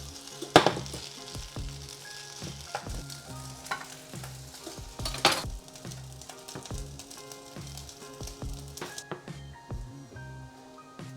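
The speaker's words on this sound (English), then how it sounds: "we just heated up our pork adobo. So we add our pork along with some of the sauce" Pork adobo with its sauce sizzles and crackles in a hot pan while being stirred. A close, busy frying hiss is broken by sharp spatula scrapes and clatters throughout.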